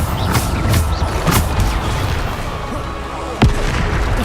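The Bombarda explosion spell in Hogwarts Legacy, heavy booms and bursts amid loud combat noise, with a distinct sharp blast near the end.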